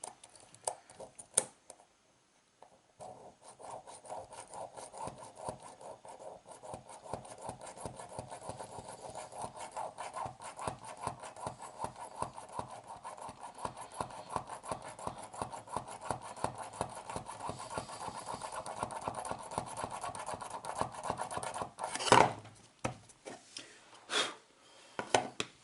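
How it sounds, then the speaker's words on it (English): A small drill bores a couple of holes into a wargaming pill box terrain model, a steady close rasping whir with a dense run of rapid grinding pulses that builds and then stops abruptly. "drilling a couple of holes to put these in"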